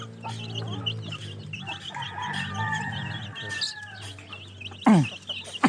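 Backyard chickens and small chicks eating feed, clucking and chirping continuously at close range, with someone talking over them and a sudden louder squawk near the end.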